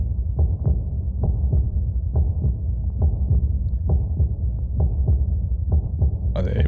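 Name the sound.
heartbeat sound effect in a video intro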